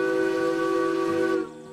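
Steam whistle of the S282 steam locomotive in the train game Derail Valley sounds one loud, sustained harmonic blast lasting over a second, then cuts off abruptly leaving a soft hiss.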